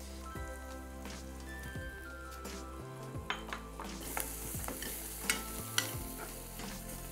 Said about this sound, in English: We will saute the onions until soft and translucent.